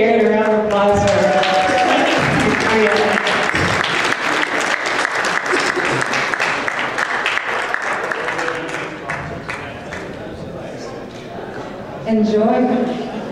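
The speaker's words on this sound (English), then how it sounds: "Everyone give Garrett a round of applause for" A crowd at a sustainability symposium claps for Garrett in sustained, dense applause, loud and continuous, thinning slightly near the end before swelling again, with talking mixed in at the start and close.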